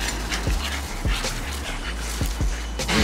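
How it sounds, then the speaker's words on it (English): French bulldogs bark through a gate, a handful of sharp close barks spaced irregularly over a few seconds above a constant low rumble. "it's always one dog that teach everybody to bark through the gate"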